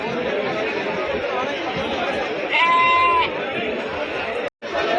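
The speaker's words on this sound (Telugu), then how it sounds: "పొట్టేల మార్కెట్ అయితే చాలా అంటే చాలా రద్దీగా ఉంది" Sheep bleat at a crowded sheep market, one clear drawn-out bleat rising from a dense wash of crowd chatter and bustle, with more animal calls faint in the background.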